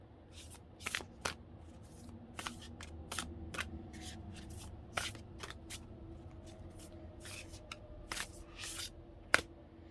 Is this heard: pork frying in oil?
no